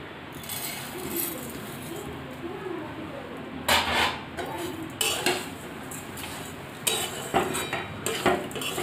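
A spoon scrapes and clinks against a pan as semolina, grated coconut and sugar are stirred over low heat, with intermittent metallic taps under a quiet background hum.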